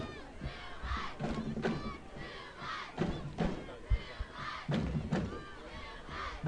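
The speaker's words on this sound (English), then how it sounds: "As you can hear the crowd in the background" A crowd at a high school football game between Hamilton and Perry roars and shouts in surging waves, with thumps mixed in, moderately distant and rising and falling in bursts.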